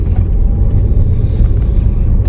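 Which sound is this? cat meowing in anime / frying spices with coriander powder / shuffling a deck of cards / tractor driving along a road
tractor driving along a road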